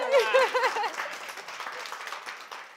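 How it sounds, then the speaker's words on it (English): Applause from a crowd at a book award ceremony, steady clapping that follows a brief burst of voices and gradually thins out. "another round of applause"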